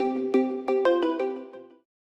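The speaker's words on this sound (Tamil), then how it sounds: "பாஸ் எதுக்கு இப்போ ஃபோன் பண்ணுறாரு?" Incoming-call ringtone on a mobile phone in a Tamil short film: a bright melodic tone sequence of several evenly spaced notes that plays loud and clear for under two seconds, then cuts off to silence.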